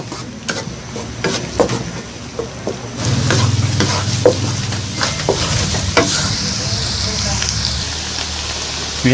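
Onions sauté in butter in a pan for a creamy carbonara sauce, with a loud close sizzle that swells partway through and frequent sharp clicks and scrapes of a utensil stirring.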